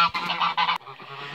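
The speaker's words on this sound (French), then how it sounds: "L'oie qui est à droite, c'est le jar." A gander, the male of a pair of geese, gives a run of loud, harsh honks close by, several bursts in quick succession before a brief pause and a softer, lower call.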